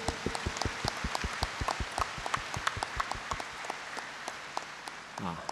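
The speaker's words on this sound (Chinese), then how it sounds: "我们其他的法师们都是我们本土的啊，我们国产的，我们给他们掌声感谢" Applause from an audience thanking the local monks at a Buddhist memorial ceremony in Malaysia, a steady patter of many hands clapping at a moderate distance, with a brief voice near the end.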